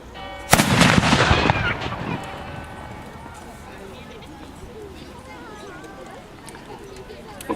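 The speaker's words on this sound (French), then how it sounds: "Coup de feu." A single sharp, loud gunshot blast from an antique arquebus rings out, followed by a fading echo and quiet outdoor ambience with faint birdsong.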